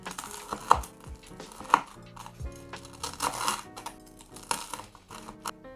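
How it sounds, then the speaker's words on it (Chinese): A knife saws and crunches through crisp, crusty bread toasted in an air fryer, cutting it into small cubes in quick strokes with sharp cracking bits, close and fairly loud, no voices. "用刀把它切成小丁。"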